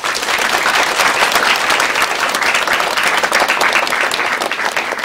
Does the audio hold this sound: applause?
yes